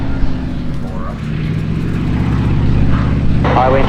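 At Oshkosh during EAA AirVenture 2018, a propeller airplane drones steadily as it comes in to land, its engine hum rising slightly toward the end, with a voice talking over it.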